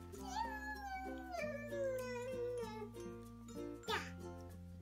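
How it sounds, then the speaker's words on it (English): A cat meows a few times, the drawn-out calls close and fairly quiet against a faint indoor background. "Cat."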